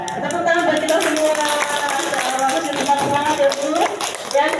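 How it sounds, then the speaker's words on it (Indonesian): A crowd claps together at a religious talk for mothers, a dense burst of applause that carries through the whole moment, with voices mixed in underneath. "Tepuk tangan buat kita semua."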